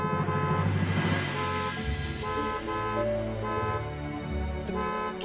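A car horn honks in sustained, tonal blasts amid steady traffic and engine noise, fairly close and loud.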